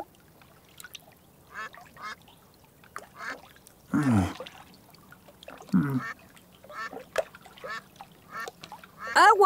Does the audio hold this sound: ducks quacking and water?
yes